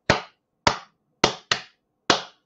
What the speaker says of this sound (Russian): сколько прищепок, соответственно, столько раз мы хлопаем